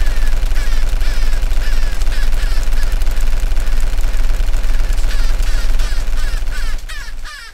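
Machine pistol fire in a Call of Duty game, a dense, loud, continuous stream of rapid shots lasting several seconds with no pauses, fading slightly at the very end.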